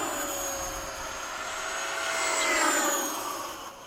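A model Hawk jet aircraft makes a pass over the flying field, a steady loud whine that swells toward a peak and then begins to fade as it moves away, with no talk.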